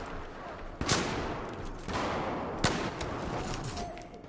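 Gunfire in the video game Battlefield 4, with two sharp, loud shots about two seconds apart over a dense, continuous din of distant battle noise.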